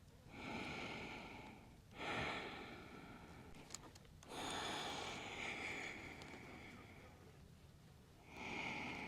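Slow, deep nasal breathing during a seated hips-and-hamstrings yoga stretch, close to the mic: several long, airy inhales and exhales, each lasting a few seconds, with soft breaks between them and no other sound.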